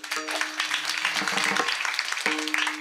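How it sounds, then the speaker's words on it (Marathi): An audience at a Marathi kirtan claps for students, producing a short burst of dense, moderately loud applause with sustained tonal music underneath. "टाळी वाजवा"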